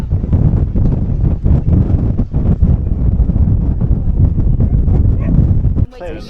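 Strong wind buffets the microphone in a steady roar with gusty rumbles, dropping away abruptly near the end.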